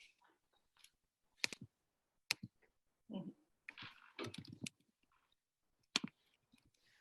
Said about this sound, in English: I'm going to type her email address right now.